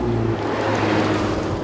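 Ferrari 488 GTB with its turbocharged V8 drives past, a steady engine drone and road whir holding at moderate level without any sharp revving peaks.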